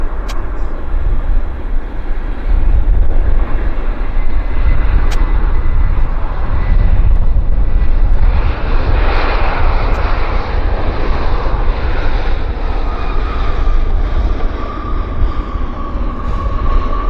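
A Lynx Air airliner, flight 9106 from Calgary, arriving at Vancouver Airport, producing a loud, continuous engine roar and rumble that holds steady for the whole stretch.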